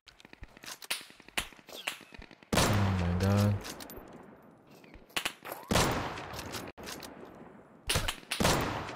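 AK rifle fire in the survival shooter Deadside: repeated sharp cracks and rapid bursts, some close and loud, others quicker and thinner, spread across the stretch, with a brief voice in the middle.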